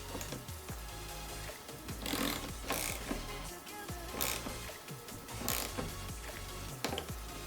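A hand tool slowly tightens a rivet insert for a Perrin Performance Gurney flap, with a series of close, gentle ratcheting clicks and creaks in irregular bursts and no voices.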